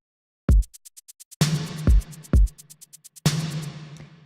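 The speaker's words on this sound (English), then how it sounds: "the only other thing really to show you are the drums, which sound like this" A sparse electronic drum pattern: deep booming kicks and sharp snare hits over a quick ticking hi-hat, dry and punchy, with gaps between hits.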